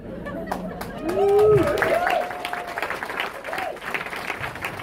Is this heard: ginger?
no